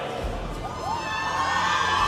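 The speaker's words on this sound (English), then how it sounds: "Listen to this crowd." A large esports arena crowd at the League of Legends grand final of the Esports World Cup 2026 cheers for Korea, a sustained distant roar with scattered whoops that swells slightly toward the end.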